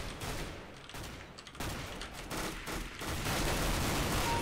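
Dense, continuous rapid gunfire from a CS:GO Arms Race match rattles on in a busy wash of shots, loud and sustained with no talking over it.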